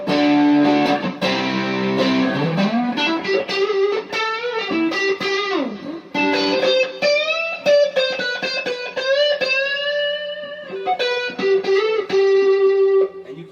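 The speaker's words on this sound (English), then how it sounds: "But they have this distortion sound" Loud, heavily distorted electric guitar playing sustained notes and bending slides through a Dumble-style overdrive amplifier, with a thick, saturated tone ringing throughout and no voices.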